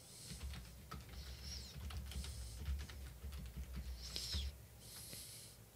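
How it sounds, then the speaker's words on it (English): Someone types text on a computer keyboard in soft, irregular clicks and taps, faint and close, with no one speaking. "So we're just going to type something kind of interesting here."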